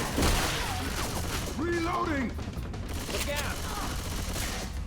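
Gunfire rattles in the Left 4 Dead 2 zombie co-op level Cold Stream, bursts of shots sounding close and steady through most of the stretch, mixed with game noise and voices talking over it.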